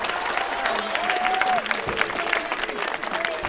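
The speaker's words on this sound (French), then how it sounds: "je vous demande de vous applaudir" Crowd applause at the close of a shared-sports day held by Handisport 92 with school sport groups, sustained clapping with a few cheers and a voice briefly heard over it.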